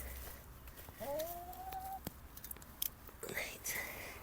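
Garden chickens near a vegetable bed give a short rising call and a few faint clucks, quiet and mid-distance, among soft rustling and brief low murmurs.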